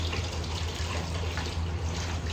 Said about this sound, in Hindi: मैं एक बार अपनी स्प्रे बॉटल धो लेती हूँ